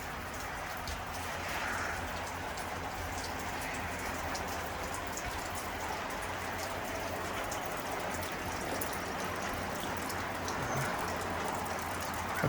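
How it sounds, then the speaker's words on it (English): Steady rain falling around an off-grid Alaskan homestead porch, a dense even patter of drops on surfaces lasting throughout, with no one speaking. "this rain is really greening everything up"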